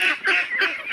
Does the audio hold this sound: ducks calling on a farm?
yes